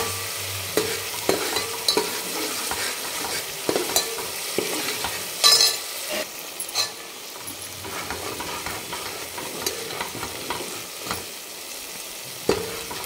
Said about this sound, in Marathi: आता हलवून घ्यायचं आहे कंटिन्यू. ढवळत राहायचं आहे जेणेकरून खाली चिटकणार नाही हे.